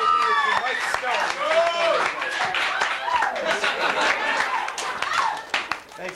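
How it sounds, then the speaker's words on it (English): A small audience claps and applauds steadily, close and fairly loud, with scattered laughter and voices mixed in. "let's just give a round of applause to the true stoner right here for filming this"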